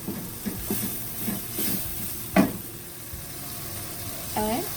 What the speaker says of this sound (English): Stir until fragrant.